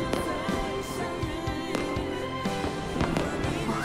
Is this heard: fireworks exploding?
yes